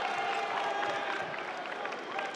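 A crowd at a college basketball game between UCF and Alabama roars and cheers steadily in a large arena, under a commentator's voice.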